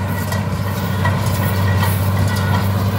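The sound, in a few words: tractor running a grass bundle baling machine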